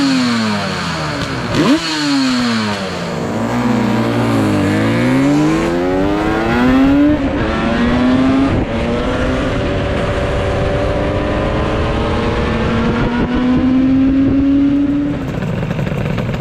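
A Yamaha RD400 Daytona Special two-stroke motorcycle engine revs repeatedly with the choke off, its pitch rising and falling in loud, close blips over a steady idle, with no talk.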